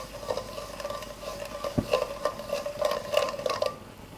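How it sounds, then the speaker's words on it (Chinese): White sugar and cold water heating in a pot into syrup, soft bubbling and sizzle with a steady tone and irregular popping pulses, one low knock midway, no talking. "加入大半勺的凉水，把糖慢慢熬化"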